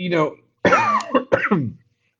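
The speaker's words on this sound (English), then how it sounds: "This is not a new cough." A person coughs and clears their throat several times in short rough bursts, close to the microphone, with brief pauses between.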